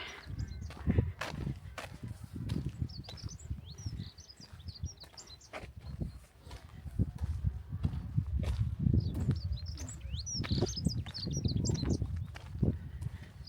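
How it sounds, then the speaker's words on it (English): Birds chirp and tweet in short bursts outdoors near a tarn, fairly faint, over a backdrop of footsteps and rustling. "it's just nice hearing the sound of birds."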